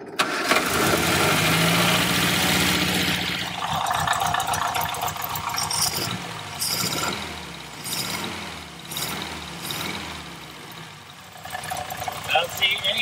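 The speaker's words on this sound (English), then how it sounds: "Next step will be to start the engine." A 1962 Austin-Healey Sprite's engine cranks and catches, then settles into a steady idle with rhythmic pulsing, close by, while someone talks over the running motor.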